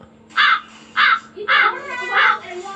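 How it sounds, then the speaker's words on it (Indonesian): Bird call sound effect played from a sound card, four loud, harsh crow-like caws in an even rhythm, close and clear with no talk over them. "Ada suara burung."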